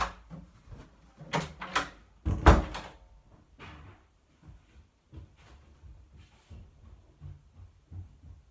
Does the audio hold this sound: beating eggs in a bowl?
no